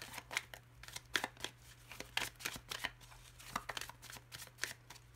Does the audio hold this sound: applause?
no